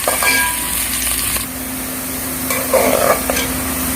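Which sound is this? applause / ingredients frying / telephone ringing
ingredients frying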